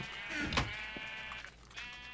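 Sheep in Minecraft bleat close by in a two-storey sheep building, a few wavering cries in quick succession with no talking.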